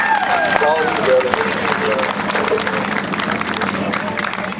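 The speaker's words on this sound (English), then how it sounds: "throw down applause, Mr. Robert." Audience applause at a gospel music performance, a steady wash of clapping mixed with crowd noise and some cheering, with a voice speaking over it near the start.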